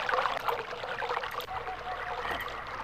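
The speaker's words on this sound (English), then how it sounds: "So now we can hear soft water noises." Gentle trickling and lapping of flowing water released through a valve in the video game Myst, a soft, continuous watery wash with small splashy details throughout.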